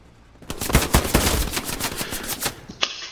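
M1 Garand rifle fire in a World War II shooter, a rapid burst of loud, close shots, with a lone final shot near the end.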